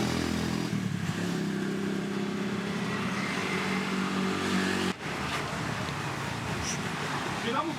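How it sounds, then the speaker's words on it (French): Heavy road traffic in Bali, a dense stream of cars and motorbikes rumbling and revving nearby, steady and loud throughout, with voices talking over it. "Beaucoup de circulation."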